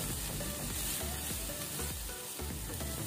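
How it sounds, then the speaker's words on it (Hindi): Chicken pieces and vegetables sizzle steadily in a hot pan, a close, continuous frying hiss with occasional stirring clatter and no talking throughout. "और हल्की हल्की सी ये भी फ्राई हो जाए।"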